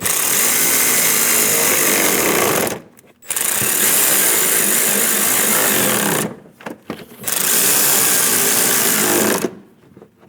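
A power tool runs loudly and close up while snugging the shroud bolts on a Chevrolet Express 2500 van, in three long sustained bursts separated by short pauses.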